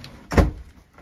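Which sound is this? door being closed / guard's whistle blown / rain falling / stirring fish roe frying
door being closed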